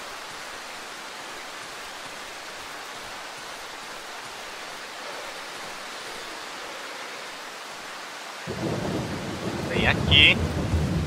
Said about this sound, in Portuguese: Tá chovendo, achei muito bacana que chova nesse jogo, né?